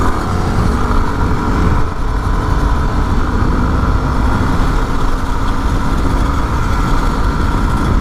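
A Yamaha WR250R dirt bike ridden along logging roads, its engine a steady, loud, rough drone with wind buffeting throughout, no pauses or talk.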